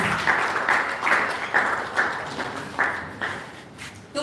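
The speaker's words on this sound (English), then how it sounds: "A round of applause, come forward." An audience at a university entrepreneurial summit claps in a rhythmic, even beat, each clap a crisp burst over a busy hall background, moderately loud and steady throughout.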